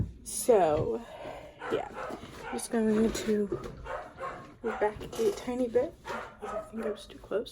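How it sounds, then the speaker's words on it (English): A dog barks and yips repeatedly indoors, in bursts of varying loudness with whimpering edges, while a person keeps talking over it. "Sorry that my dog is barking at something."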